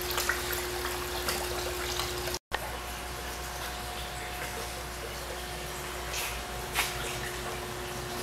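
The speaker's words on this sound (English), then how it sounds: "Flock water is entering this 20 gallon bucket" Flocculated, dyed water pours steadily into a 20-gallon bucket on a water treatment test unit, a continuous even splashing trickle with a steady mechanical hum underneath.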